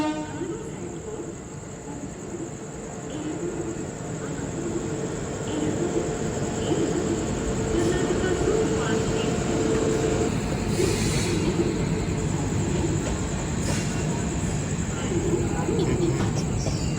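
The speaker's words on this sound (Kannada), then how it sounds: "ಕರ್ನಾಟಕ ಎಕ್ಸ್ಪ್ರೆಸ್ ಅರೈವ್ ಆಯ್ತು ನೋಡ್ರಿ. ಈಗ ಪ್ಲಾಟ್ಫಾರ್ಮ್ ನಂಬರ್ 1ಗೆ." Karnataka Express pulling into platform number 1, a long steady rumble of rolling rail cars that grows slightly louder midway, with a high insect-like whine and faint background voices on the platform.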